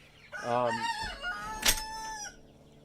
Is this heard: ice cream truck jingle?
no